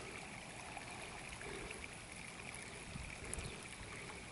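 Irrigation water runs along a loose-soil garden row, a faint, steady trickling and gurgling wash with no talk.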